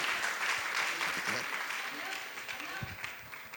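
Audience applause at a Jain community question-and-answer gathering with a Digambar Jain monk, dense clapping from a crowd that continues steadily and slowly thins out toward the end.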